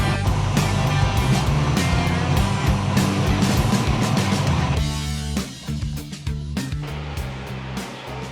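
A Chevrolet Nova project car idles with a steady low engine rumble and rough, layered mechanical tones, loud and close, dipping briefly partway through before settling back.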